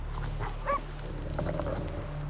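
A dog whimpers in The Witcher 3, a few soft, high whines over a steady low ambient hum and faint game background sounds, fairly quiet overall.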